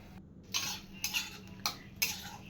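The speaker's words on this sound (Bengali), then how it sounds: "মশলাটা ভাজা ভাজা করে নেব।" Spice mixture frying and being stirred in a pan, with sweetener added, for a Bengali home recipe: four distinct scraping, clinking spatula strokes in a steady rhythm over a faint background sizzle, close and fairly quiet.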